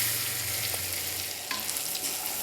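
Couscous being stirred in melted butter in a pot over medium-high heat, a close, quiet sizzle with soft scraping throughout, no talking.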